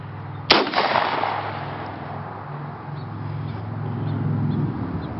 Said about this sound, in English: This is a 12 gauge Browning shotgun.